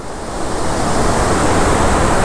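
River water rushing through large orange floodgates at a dam on the Chao Phraya River in Chai Nat, Thailand, a loud, constant roaring wash that builds slightly and stays unbroken, with no talking.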